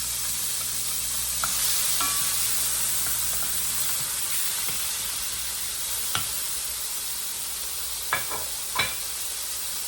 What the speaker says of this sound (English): All right, let me fry the onions